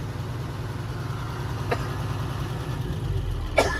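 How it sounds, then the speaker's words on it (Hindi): An eight-year-old Ashok Leyland 3718 truck with its original engine idles steadily with a low, even diesel rumble, broken by a couple of faint knocks. "ये भाई लेलैंड का साउंड सुन लीजिए। 8 साल पुराने ट्रक का"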